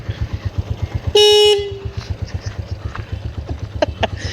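A motorcycle idles with a steady, throbbing put-put beat while its horn gives one loud, flat honk lasting about half a second; the engine keeps pulsing close by afterward.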